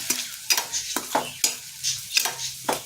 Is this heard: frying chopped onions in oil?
yes